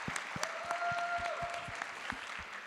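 A small audience at a memory competition gives sparse, scattered applause, with a handful of separate claps spread over a few seconds. A faint tone sounds briefly in the background.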